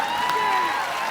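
A studio audience at a TV comedy show, the Kapil Sharma Show, applauds in a steady, dense wash of clapping and crowd noise filling the whole moment, with no speech over it.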